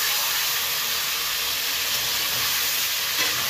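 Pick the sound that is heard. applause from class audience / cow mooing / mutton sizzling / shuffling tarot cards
mutton sizzling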